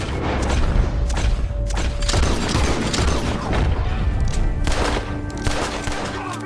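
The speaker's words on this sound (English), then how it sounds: "Gun shots are coming from that." Heavy gunfight in Red Dead Redemption 2: loud, irregular volleys of gunshots and booming blasts that overlap in clusters, with a few brief lulls between bursts.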